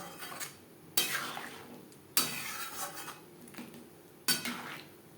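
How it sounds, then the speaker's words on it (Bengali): A spoon stirs thinly sliced papaya into masoor dal in a cooking pot, making three distinct scraping, clinking strokes against the metal at a slow, regular pace, close up and without speech. "ডালের সাথে পেঁপে বেশ ভালো করে মিক্স করে দেবো"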